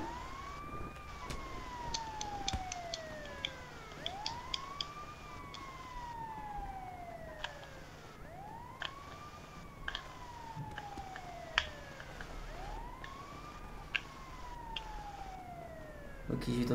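Ambulance sirens wail in a video game clown-hunt chase, rising and falling in repeated sweeps at moderate loudness over a busy background with scattered clicks and knocks.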